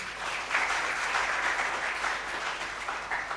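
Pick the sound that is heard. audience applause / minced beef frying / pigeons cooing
audience applause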